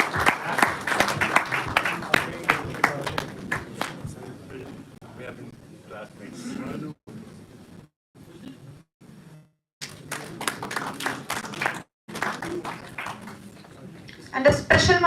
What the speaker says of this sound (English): Come on, let's have some claps.